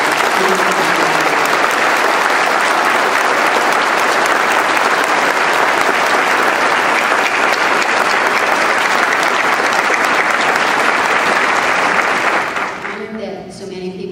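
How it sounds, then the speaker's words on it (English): An audience at a Congressional Gold Medal celebration in San Diego claps loudly and steadily for about twelve seconds, a dense wall of applause that then fades away. "if you would like to applaud right now, we honor you and we look forward to this"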